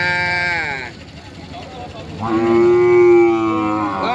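Cattle at the Som Poi cattle market in Thailand let out two long, loud moos close by, the second deeper and more drawn out, with people talking in the background.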